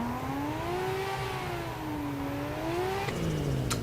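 A DTP R32 Skyline drift car in Assetto Corsa holds a steady, loud engine note that wavers up and down with throttle, then drops sharply in pitch near the end, with no voices over it.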